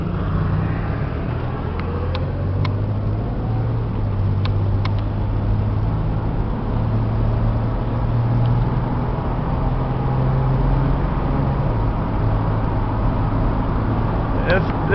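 A Dodge six-cylinder work van fitted with shelves, cage and racks runs with a steady low engine drone whose pitch rises and falls slightly, plus faint clicks and someone talking over it.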